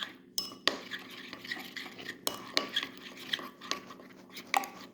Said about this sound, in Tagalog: So i-mix lang natin guys.